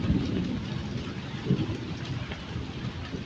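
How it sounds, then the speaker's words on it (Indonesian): Steady heavy rain hisses throughout, with low rumbles of thunder swelling at the start and again midway, fairly close and continuous. "Menikmati suasana alam sambil diguyur hujan."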